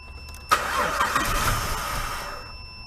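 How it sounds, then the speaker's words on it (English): A 2005 Jeep Liberty with a 3.7L engine cranks over for about two seconds, a steady close mechanical churn that starts abruptly and stops without clearly catching. "Go ahead and crank it, Ronnie."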